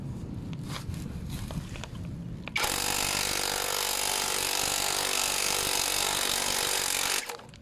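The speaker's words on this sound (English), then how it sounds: "We used impact wrench for extra power." An impact wrench works a damaged, loose threaded nut, starting with scattered clanks and then a steady, loud mechanical whir for about five seconds before it stops abruptly.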